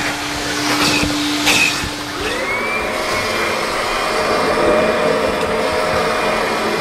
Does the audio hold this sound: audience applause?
no